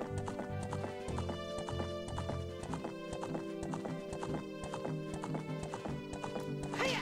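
Horse hooves clip-clopping at a gallop in Zelda Ocarina of Time, rhythmic game hoofbeats over looping background music, with a whinny.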